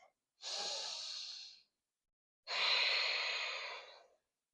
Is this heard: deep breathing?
yes